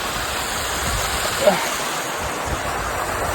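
Waterfall at Curug Genting in Giritirta, Pejawaran, giving a steady, broad rush of falling water throughout with no talk.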